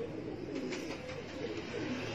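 Soft, repeated cooing of pigeons, a low burbling call that rises and falls several times, fairly faint with a faint background hum.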